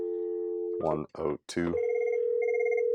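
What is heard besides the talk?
telephone dialing and ringing on a Merlin phone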